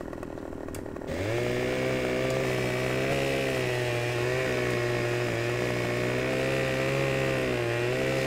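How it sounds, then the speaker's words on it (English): Chainsaw cutting a tree in the Farming Simulator 2015 video game, starting abruptly after a second of quieter background, then holding a loud, steady, buzzing engine drone close up to the end with slight pitch wobble. "how do you chainsaw a tree when it just stops rocking?"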